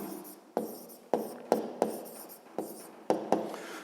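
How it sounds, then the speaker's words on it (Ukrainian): Pen or chalk strikes rhythmically while a maths solution is written down, about eight sharp tapping strokes each trailing into a short scratchy scrawl, close and fairly quiet with no speech. "Записуємо розв'язання."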